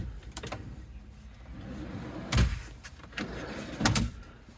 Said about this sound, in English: So with this, we can pull the kitchen drawer out.